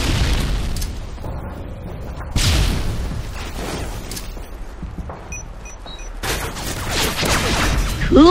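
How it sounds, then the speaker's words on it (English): Predator missile strike in a first-person shooter video game, heavy booming blasts and rumbling impacts followed by scattered smaller bangs and debris, loud and close, with another burst near the end. "Friendly Predator missile inbound."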